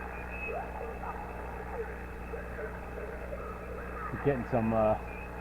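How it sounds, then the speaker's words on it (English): Ham radio receiver hiss during a QRP Winter Field Day contact, a steady noisy band with warbling chatter bleeding over from adjacent stations and a louder burst of interfering signal near the end. "Getting some creep in from some side stations off to the side."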